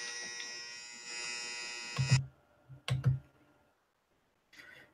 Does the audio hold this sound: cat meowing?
no